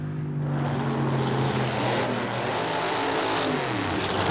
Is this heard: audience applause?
no